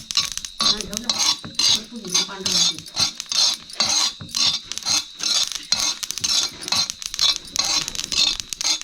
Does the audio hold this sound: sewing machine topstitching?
no